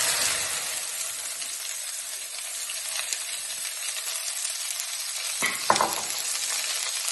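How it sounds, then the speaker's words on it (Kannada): Okra frying in a pan sizzles continuously and close, a bright hiss with a few faint clinks and a short stir near the end. "ಇವಾಗ ಬೆಂಡೆಕಾಯಿ ಹಾಕೋತಾ ಇದ್ದೀನಿ."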